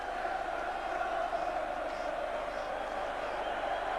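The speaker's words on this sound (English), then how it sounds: "the rapturous applause of the Liverpool fans" Liverpool fans at an FA Cup fourth-round match against Aston Villa in 1988 fill the stadium with a steady, distant roar of applause and crowd noise, faint and unbroken.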